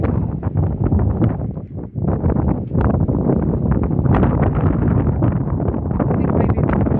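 Strong, continuous wind roars and buffets through woodland beside a sunken path, with rustling gusts rising and falling and no talk.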